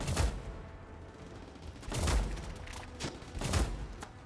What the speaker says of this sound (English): My grenade launcher detonates 1 foot in front of my face.